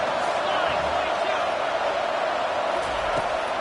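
A packed college football stadium crowd roars loudly and steadily through a fourth-down play, a dense, unbroken wall of noise with no clear pauses.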